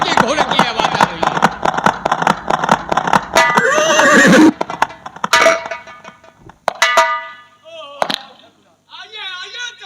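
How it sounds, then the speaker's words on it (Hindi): A horse whinnies and its hooves clop over a rural village scene, bursts of neighing and hoofbeats loud and close, with people talking around it. "उन्हीं के घोड़े की आवाज आ रही है"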